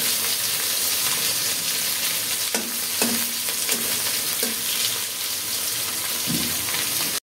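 Rui fish frying in hot oil, a dense continuous sizzle up close with a few distinct utensil clinks and scrapes against the pan partway through, fairly loud and steady, no speech.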